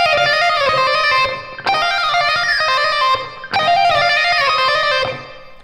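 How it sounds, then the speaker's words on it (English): Electric guitar plays a legato lick from a solo lesson, a six-note pattern repeated three times as it steps down the scale, each run of quick, smoothly connected notes sounding loud and close with no talking. "same basic lick, we just move down the scale 3 times."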